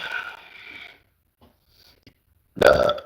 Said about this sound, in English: Here comes the burps.